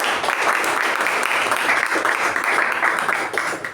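An audience at a Toastmasters meeting gives a round of applause. The dense clapping is steady and fairly loud for the whole stretch, with little speech.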